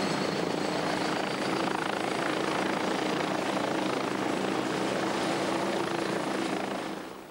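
A Westland Scout helicopter in flight, a loud steady rotor and engine roar that holds evenly, then begins to fade at the end.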